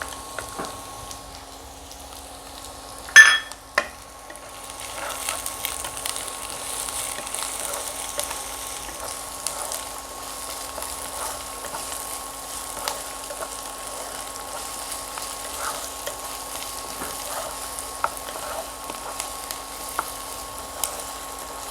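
Capsicum, onion and tomato frying in a pan for paneer bhurji: a steady, soft sizzle running throughout, with a sharp clank near the start and faint scattered pops.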